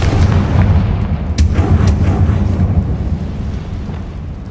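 A Confringo blasting spell goes off in the video game Hogwarts Legacy, a loud, booming explosion with a heavy low rumble that rolls on and slowly fades over several seconds.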